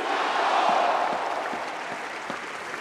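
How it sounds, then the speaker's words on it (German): A large crowd applauds at the Werder Bremen team presentation, a broad, sustained roar of clapping that swells early and then eases slightly, heard from within the audience. "Und jetzt gibt es nochmal den großen Applaus."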